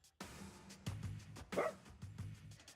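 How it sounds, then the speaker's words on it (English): Excited video-game dog barking and yipping in short bursts, several quick barks spread across the clip with a brief whimpering note in the middle, fairly close and clear. "Why is this dog so excited about exploding?"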